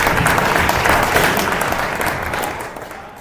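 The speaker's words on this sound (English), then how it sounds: "let's give these guys a big round of applause" An audience at a startup presentation event applauds, a dense, steady wash of many hands clapping together that slowly fades toward the end, with no talking over it.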